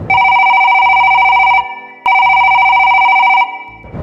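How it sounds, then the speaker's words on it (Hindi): A telephone rings in two loud, sustained electronic bursts separated by a short pause, each ring a steady bright tone heard close and alone. "इसी दौरान फोन की घंटी बजती है।"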